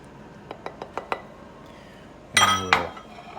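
A utensil lightly taps a dish several times, then spinach chicken skillet pasta is scooped onto a plate with a louder clatter of metal against dishware, close and without speech.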